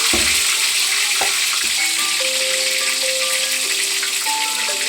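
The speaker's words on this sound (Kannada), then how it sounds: "ಈಗ ಎಣ್ಣೆ ಕಾದಿದೆ, ಫಸ್ಟು ಟೊಮೆಟೊ ಹಾಕಬೇಕು" Tomato frying in hot oil in a pan, a constant close sizzle with bright crackle throughout, a few stirring knocks and clinks near the start, and faint scattered tonal sounds in the background.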